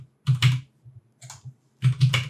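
Computer keyboard keys tapped while entering values into 3D modelling software, three short bursts of close, clicky keystrokes with brief pauses between them and no talking.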